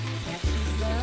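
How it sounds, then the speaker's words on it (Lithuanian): Yak meat sizzles in a frying pan alongside garlic and onions, a steady close crackle with a low hum, and brief quiet speech. "Čirškam."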